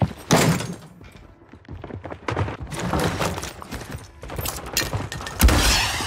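Gunfire in a shooter video game, bursts of sharp shots and thuds spread across several seconds, some loud and close, others softer, with no clear talking.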